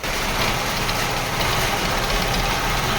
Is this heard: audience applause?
no